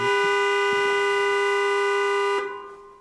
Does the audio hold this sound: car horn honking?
yes